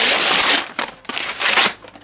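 Paper packaging crinkles and rustles as a new book is unboxed from a subscription box, coming in two loud, close bursts of crackling with a brief lull between them.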